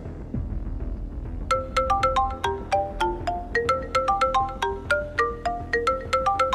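A mobile phone ringtone plays a bright, repeating melodic pattern of quick tones, fairly close and clear, starting after a low rumble and continuing steadily with no one speaking.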